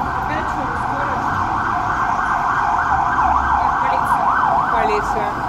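A police siren wails steadily through city street noise, with a fast warbling sweep near the end, loud and continuous.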